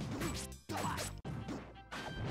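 Smash attack hits in the platform fighting game Super Smash Flash 2, a quick series of loud, punchy crashes and thwacks with whooshing swings, heard close up over game sounds with short gaps between strikes.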